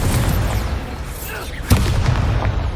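A Confringo fire spell explodes in the video game Hogwarts Legacy, a single sharp boom cutting through mid-battle noise and voices.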